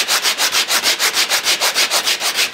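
Rhythmic back-and-forth sanding of wooden guitar top braces, about fourteen even hissing strokes close to the microphone, steady and loud with no talking.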